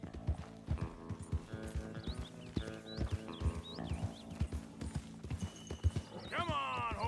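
A Mustang horse in Red Dead Redemption 2 gallops with rhythmic hoof clip-clops and a few whinnies, ending in a loud neigh, with quiet voices talking underneath.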